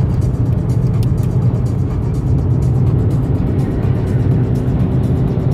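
Steady car road noise from a Volkswagen Bora cruising on the German Autobahn, a constant low rumble of engine and tyres heard from inside the cabin, loud and unbroken.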